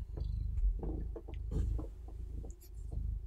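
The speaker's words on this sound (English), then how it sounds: "we're gonna get some purring ASMR" A low, steady purr rumbles close up with soft rhythmic pulses, interrupted by faint rustling and small clicks.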